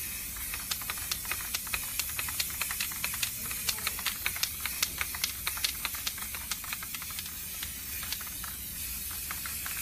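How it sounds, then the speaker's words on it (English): An aerosol can of spray paint hissing steadily and close for about ten seconds, with a rapid, irregular train of sharp ticks running through the whole spray. "if you spray paint, you gotta like keep moving the whole time, because if you hold it in one spot, you will get drippings"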